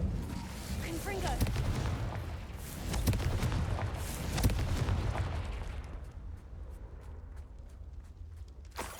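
Rapid blasts of the Confringo fire spell in Hogwarts Legacy, dense rumbling explosions and crackling impacts layered over game sound effects, loud and continuous before thinning out toward the end.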